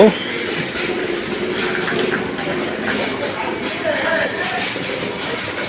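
A Sealdah local train arrives at Gede station on the India–Bangladesh border, a loud, continuous rumble and rattle of the cars heard up close, with voices mixed into the din.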